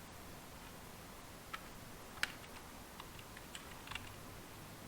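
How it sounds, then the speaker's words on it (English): Sparse keystrokes on a computer keyboard while code is being entered, a handful of quiet, separate clicks at an irregular pace over low room noise. "basically we're typing the same thing."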